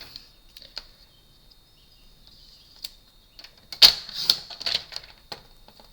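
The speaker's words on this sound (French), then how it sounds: "Je coupe ma petite étiquette." A few sharp crisp clicks and snips up close in a quiet room as a decorative circle paper punch cuts a paper label, with a faint steady high whine in the background.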